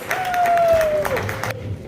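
A university audience applauds at a Sindhi culture day event at an international medical university, with steady crowd clapping for under two seconds and a voice or whistle-like tone riding over it before it cuts off.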